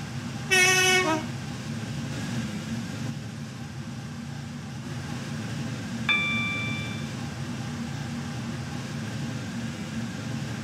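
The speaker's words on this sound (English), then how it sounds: "Does not stop here. Please stand back from the platform edge." Roblox railway game: a train passes through a station without stopping, a short loud horn blast at the start, then a rolling rumble and a brief chime partway through.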